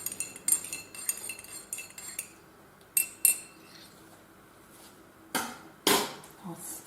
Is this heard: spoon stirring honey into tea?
yes